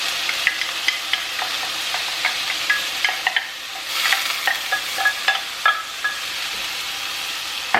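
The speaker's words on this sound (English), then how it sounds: "And a few rice grains popping" Uncooked rice sizzles in hot oil in a pan, with a soft steady hiss and scattered sharp pops and crackles from the grains.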